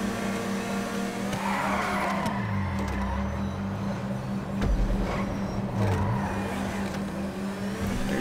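Car in a driving video game, tires skidding and squealing over a steady engine hum with swooping pitch sweeps as it slides and accelerates, a couple of thumps midway, fairly loud and with no talk.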